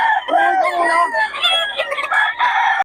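Close roosters crow loudly and overlapping, with harsh drawn-out calls and some clucking, while faint voices carry in the background.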